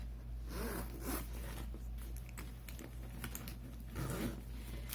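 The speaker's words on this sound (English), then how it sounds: "I'm going to just zip both of these up." Zippers on Coach Mini Bennett and Fossil Rachel satchel handbags being pulled closed, a few short, close rasping zips with small handling clicks, heard alone.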